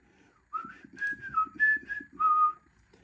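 Someone whistles a short melodic tune, a few sustained notes rising and falling, close and clear against quiet.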